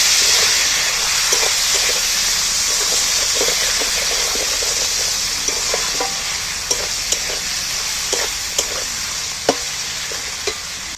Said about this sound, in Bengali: টমেটোটা দিয়ে এইবার আমি ভালো করে কষাতে থাকবো